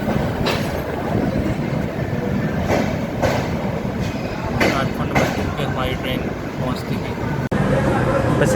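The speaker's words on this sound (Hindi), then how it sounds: "हमारी ट्रेन प्लेटफॉर्म नंबर 2 से खुल चुकी है" An AC express train rolls out of Cuttack station platform with a steady rumble and rhythmic clickety-clack of wheels over rail joints. A voice talks over it.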